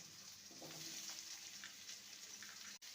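Snake gourd pieces fry in a hot spice tempering in a pan, giving a soft, continuous sizzle with faint crackles and a few light stirring clinks. The sizzle is quiet and close, with no voices.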